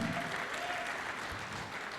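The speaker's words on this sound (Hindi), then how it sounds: "तालियां रतन भाई के लिए प्लीज" Audience applause at a motivational talk in India, a dense steady wash of clapping from a hall crowd that stays loud and even for the whole two seconds, with a faint voice briefly underneath.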